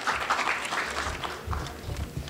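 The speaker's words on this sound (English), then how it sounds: "So can we please have a huge round of applause" Audience applause in a conference hall after a panel on access to justice is introduced, a steady patter of clapping at moderate level with some low rumble and faint background voices.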